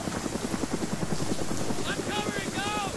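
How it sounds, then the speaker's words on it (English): Helicopter flying in the Arma 3 video game, a steady rhythmic rotor chop running throughout under a busy mix, with radio voices speaking over it near the end. "Helicopter! 300 meters! Southeast!"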